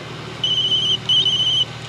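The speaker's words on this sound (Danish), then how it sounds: "Og nu ringer telefonen" In a local radio studio, a telephone gives two electronic trilling rings, clear and steady with a short gap between, over a quiet hum.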